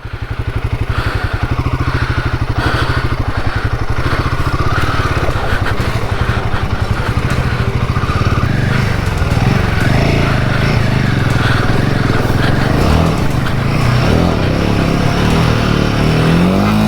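A Royal Enfield Himalayan 450 motorcycle engine revs hard and steadily while off-roading through water, a loud, continuous close-up drone with rising and falling throttle throughout.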